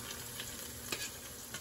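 Gluten-free squash fritters fry in a pan with a soft, even sizzle and a faint utensil tap partway through, quiet and without talk.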